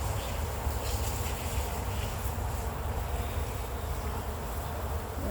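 Honeybees from a nuc hive buzz in a dense, steady drone close by, filling the whole moment without any talk.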